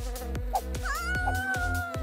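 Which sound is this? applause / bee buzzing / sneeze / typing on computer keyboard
bee buzzing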